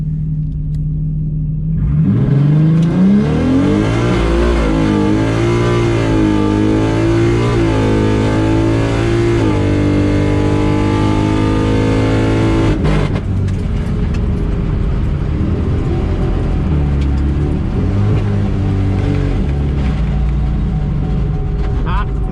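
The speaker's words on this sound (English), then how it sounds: "Not a very good burnout." The Hyperhawk race car does a burnout, its loud engine revs climbing and then holding at a high, droning pitch before the tone turns rougher and steadier for the rest of the run, close and dominant throughout.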